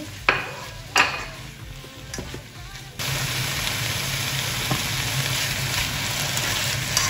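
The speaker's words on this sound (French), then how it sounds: "Donc on va bien faire revenir notre petite viande et ensuite on rajoutera le poivron que j'ai émincé" Meat sizzling loudly in a hot pan with sliced peppers, a steady broadband fry that jumps up sharply after a few sparse clinks and stirring knocks at the start, then holds as a continuous close hiss.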